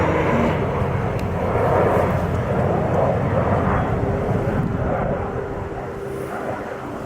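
A plane arriving at the Oshkosh airshow passes overhead with a loud, sustained engine roar that slowly fades near the end, while people talk faintly in the background.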